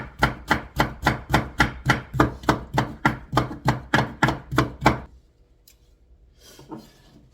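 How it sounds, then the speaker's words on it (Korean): Knife slicing red bell pepper on a cutting board: about fourteen quick, even chops in a steady rhythm, close and crisp, then a pause with faint handling clatter. "빨간색 파프리카도 똑같이 썰어주시면 돼요."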